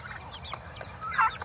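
Cornish Cross meat chickens of about 1.5 to 2 pounds cluck and chatter softly in a group, close by, with a few louder clucks near the end.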